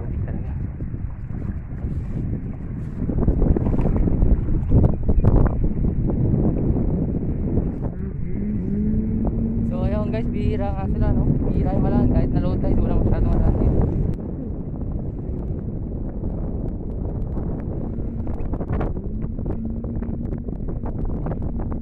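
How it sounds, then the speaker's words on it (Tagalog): Strong wind blows across an Abu Dhabi shoreline at low tide during clam gathering, a loud continuous rumble buffeting the microphone, with a person talking underneath it. "medyo maingay, malakas ang hangin kasi."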